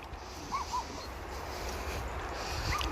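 A few short, high whimpering yelps from a dog in a village in summer, one pair early and another near the end, over steady outdoor background noise.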